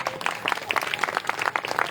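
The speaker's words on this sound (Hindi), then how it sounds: "अब ये ताली किसी ने बजाई है" Scattered applause from an audience at a Hindu Shrimad Bhagavat Katha religious discourse, a dense run of light, irregular hand claps that stays steady and moderately loud for a short burst.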